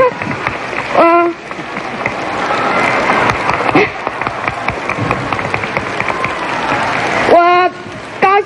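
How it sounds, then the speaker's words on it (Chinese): An audience at a women's supporters' association event in Taiwan breaks into sustained applause, a dense clapping wash with crowd noise that fills most of the clip between brief bursts of amplified speech at the start and end. "一点掌声吧，谢谢。"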